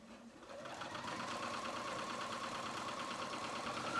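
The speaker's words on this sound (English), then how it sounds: "I'm just going to go ahead and sew that up" Continuous stitching from a sewing machine running along the top edge of a dress bodice, a steady mid-volume mechanical whir with a rapid even pulse and no talking.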